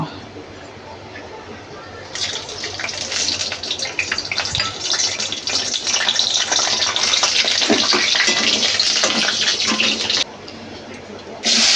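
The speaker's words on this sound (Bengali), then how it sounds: "তেল গরম হয়ে গেছে, ফোড়নের জন্য নিয়েছি এখানে তেজপাতা, শুকনো লঙ্কা, দারচিনি, এলাচ আর লবঙ্গ" Bay leaf, dried chilli, cinnamon, cardamom and cloves hit hot oil for chicken kosha, a bright hissing sizzle that jumps up after a quieter start and carries steadily, with a brief dip near the end.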